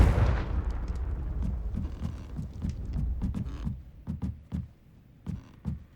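A fire spell blast in Hogwarts Legacy erupts loudly at the start, a heavy booming burst that rumbles and fades, followed by scattered sharp impacts and thuds at varying distances with no talking.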